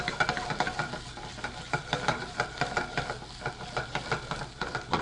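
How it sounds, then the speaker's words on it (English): Meat sears in a hot restaurant pan, a steady sizzle cut by repeated sharp scrapes and taps that come in a fairly regular rhythm, close and moderately loud, with no talking. "So just sear it for 2 minutes on one side and finish off in the oven"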